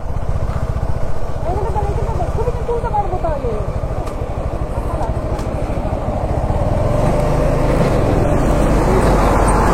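Steady traffic rumble of passing motorcycles and cars on Shankarpur marine drive beside the sea at night, loud and continuous throughout with people talking nearby.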